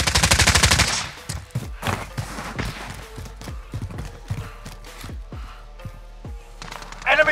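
Bursts of video game gunfire in Warzone, a rapid automatic volley up front followed by scattered sharp shots and thuds at varying distances, loud and close at times.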